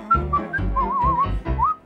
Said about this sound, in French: le sifflement continuel de l'oiseau Tic-Tic